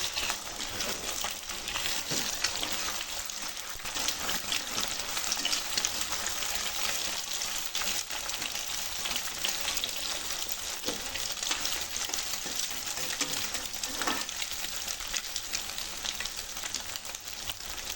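Egg fried rice sizzles steadily in a hot pan for a long stretch, with occasional scrapes and clinks as it is slowly stirred, loud and close with no talking.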